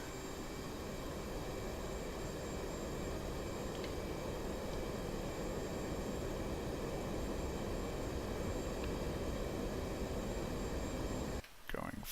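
EF-18 jet engines running up in the DCS combat flight game, a steady, loud, dense roar that holds evenly for about eleven seconds before abruptly shifting near the end.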